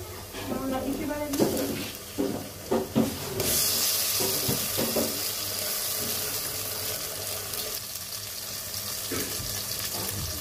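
Onions and oil hitting a hot pan for chicken curry, with scraping stirring sounds and clanks at first, then a steady loud sizzling hiss, with a voice talking briefly.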